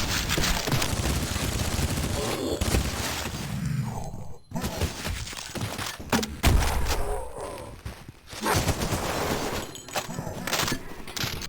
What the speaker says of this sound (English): The guns are punchy and full,